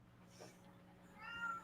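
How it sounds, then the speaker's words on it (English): A cat meows once near the end, a short rising call over a low steady hum in a quiet indoor space during a community livestream. "There's a cat around me."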